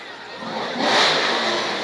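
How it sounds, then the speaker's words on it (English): A car engine revving loudly nearby at a Christmas parade on a town street, rising and swelling in a steady roar. "Those engines are revving and running wild."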